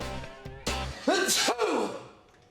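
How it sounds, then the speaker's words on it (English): One loud, close sneeze with a sharp breathy burst and a high vocal whoop, followed by a quick second gasping exhale as it fades. "there's another sneeze on the way."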